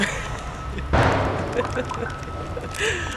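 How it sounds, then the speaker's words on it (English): A distant garbage truck in Yosemite rumbles and clanks as it lifts a dumpster, with a loud metallic bang and whoosh, heard behind someone talking outdoors. "That noise you hear in the background is the very rare Yosemite dumpster collector"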